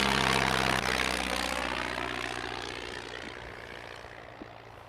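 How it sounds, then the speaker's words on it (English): Low-flying propeller airplane passing overhead, a loud broad engine roar that slowly fades as it moves away, with no one talking. "Ah, it's a nice plane. Pretty low."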